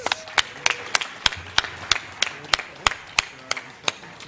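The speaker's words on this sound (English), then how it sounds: "For our winners, one last round of applause." Sparse, distinct claps at a startup pitch expo honoring the winners, a few hands clapping in a steady rhythm with faint room noise between.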